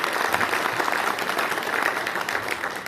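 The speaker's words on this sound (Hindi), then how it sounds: "एक जोरदार ताली में चाहती हूँ" Steady, dense clapping from a seated audience at a business marketing seminar, sustained and even throughout with no voices on top.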